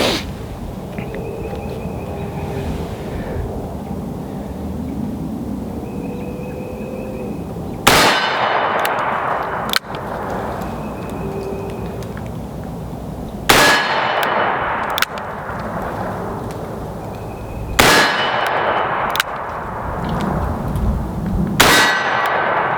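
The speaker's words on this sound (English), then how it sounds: "I'm gonna switch back to single action and try to concentrate the best that I can to shoot the best group that I can" A Smith & Wesson 629 .44 Magnum revolver with a 6.5-inch barrel fires about seven sharp, well-spaced single-action shots outdoors, each followed by a ringing metallic clang from the target.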